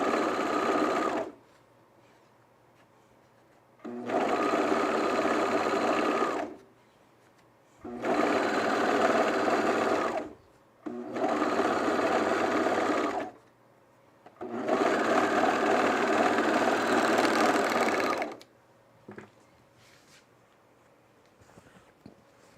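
A sewing machine stitches a Renee dress from 5 out of 4 Patterns in five steady bursts of whirring, each a few seconds long, separated by quiet pauses, close and clear.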